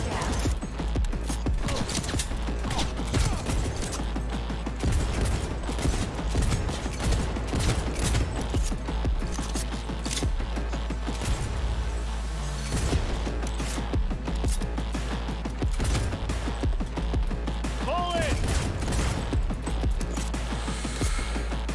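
Sustained gunfire in the open-world shooter Cyberpunk 2077, with dense rapid bursts of shots continuing loudly throughout, layered over a steady low hum and occasional faint game sounds.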